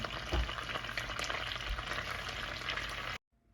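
Cloves, cinnamon, three cardamom pods and red chilli frying in hot oil for butter paneer masala, a loud continuous crackling sizzle with a couple of stirring knocks before it cuts off abruptly.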